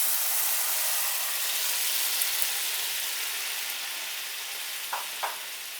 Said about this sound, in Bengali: সয়াবিনটা দিয়ে এটাকে আমি আর 2 থেকে 3 মিনিট মতো ফুটতে দেব।